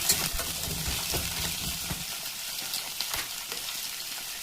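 Potato pieces stirred into reddened fried onions in a pan give a soft, continuous frying hiss with faint scraping, heard at low volume with no talk.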